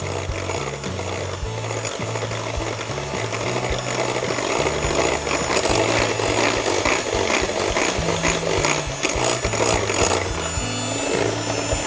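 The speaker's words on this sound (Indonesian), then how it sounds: "Jadi kita kocok dengan menggunakan speed rendah." An electric mixer runs at low speed, beating eggs and sugar for triple chocolate muffin batter. A steady whirring motor hum with rough beater scraping continues throughout, loud and close.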